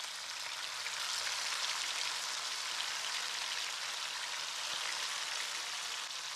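Fish pieces fry in hot oil with a steady, dense sizzle and crackle, close and continuous throughout with no talking.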